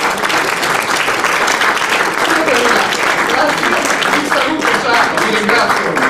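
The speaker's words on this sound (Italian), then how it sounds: "Un applauso." Loud, sustained audience applause fills a Christmas greetings celebration in Florence, dense, even clapping from a crowd with a faint murmur of voices underneath.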